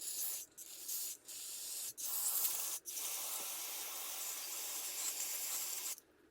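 Carb cleaner is sprayed into the carburetor of a Stihl MS 193 C chainsaw in several close, hissing bursts broken by short gaps, ending with a longer steady spray that cuts off abruptly.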